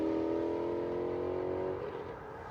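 A 2016 Ford Mustang GT with a 5.0L V8, aftermarket headers and Valvetronic Designs exhaust launches hard, giving a loud, steady droning roar close by that fades slightly as the car pulls away.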